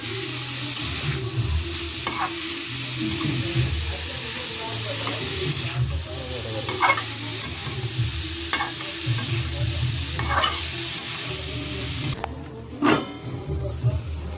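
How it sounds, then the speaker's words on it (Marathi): Snake gourd (padval) sizzles steadily as it is sautéed in a pan, with a spatula scraping and clinking now and then, close and moderately loud, with no talking. "परतून घेते आता, छानपैकी परतून घेते"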